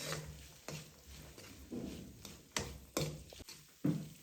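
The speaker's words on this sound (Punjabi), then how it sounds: "ਮਿਕਸ ਕਰਕੇ ਆਪਾਂ 2-3 ਮਿੰਟ ਲਈ ਭੁੰਨ ਲਵਾਂਗੇ" Quiet scraping and tapping of a spoon stirring green peas roasting with spices in a pan, in irregular strokes over a soft background sizzle.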